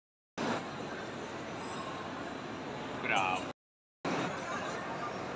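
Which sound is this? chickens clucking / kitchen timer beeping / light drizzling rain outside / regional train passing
regional train passing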